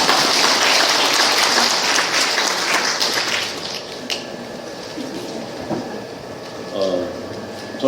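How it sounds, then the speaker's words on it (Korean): A church congregation at Mass gives a round of applause, full and dense at first and then thinning into scattered claps, with faint voices and a brief murmur toward the end. "다시 한번 박수 한번 주시죠"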